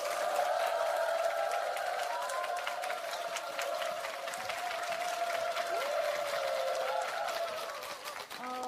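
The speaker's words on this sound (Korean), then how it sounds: "임서영 소장님을 큰 박수로 맞아주시기 바랍니다" An audience at a televised lecture claps to welcome the speaker onto the stage, with sustained, moderately loud crowd applause mixed with a steady musical tone underneath.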